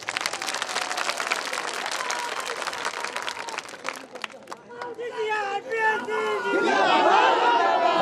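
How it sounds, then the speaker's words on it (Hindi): A large outdoor crowd at a political rally claps in a dense, continuous wash, then it thins into scattered claps as chatter and voices rise over the noise; loud and crowded throughout. "तालियां थोड़ी कम बजी"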